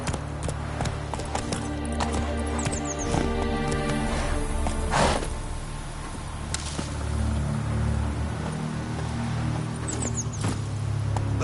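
Roach the horse gallops in The Witcher video game, rapid rhythmic hoofbeats clip-clopping up close and loud over a continuous low background, with a brief whoosh midway and no voices.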